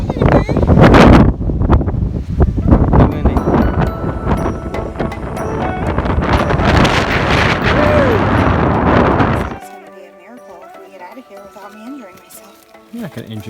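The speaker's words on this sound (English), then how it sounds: "It's a little windy." Strong wind buffets the microphone on the summit of Pyramid Peak in the Adirondack Mountains, a loud rough roar for most of the clip before dropping away, with people talking over it.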